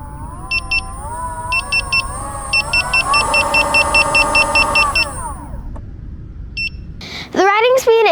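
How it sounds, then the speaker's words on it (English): Begode Hero electric unicycle spun up freely in the air, its motor whine rising and falling in pitch while repeated electronic speed-warning beeps sound, ending with a brief louder burst. "To determine the riding speed of a wheel, let's start with the free spin."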